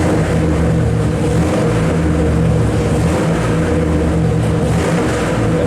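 A 451 Mopar big block stroker engine roars on a dyno, a loud, continuous, rough mechanical drone that holds steady throughout.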